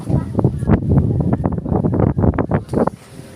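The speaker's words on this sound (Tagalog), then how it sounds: "Diba obviously mahangin." Strong wind gusts buffet the microphone outdoors at Castillo Bukal in Calamba, Laguna, a loud, continuous rumbling roar over a few seconds.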